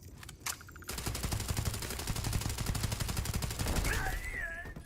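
Rapid automatic gunfire rattles in the Starfield video game, a dense burst of shots lasting several seconds after a couple of opening pops, loud and sustained, followed by a whistling tail.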